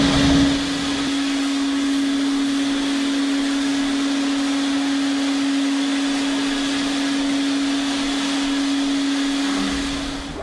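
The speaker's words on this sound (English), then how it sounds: "now I've wet vacked up the neutralized chemical solution" A wet vac runs continuously as it sucks neutralized chemical solution off a floor, giving a loud steady whine and roar with no pauses until it winds down at the very end.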